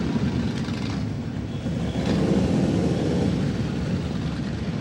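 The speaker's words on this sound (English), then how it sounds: "That's the VFW motorcycle riders." Motorcycles ridden by VFW members in a Memorial Day parade in Westminster make a steady, loud, broad engine rumble that rolls on continuously, with no talk over it.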